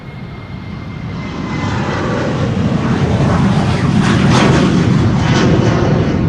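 Airliner at Schiphol airport, a loud, close roar of engines that builds steadily and holds strong as the plane passes, with no talking.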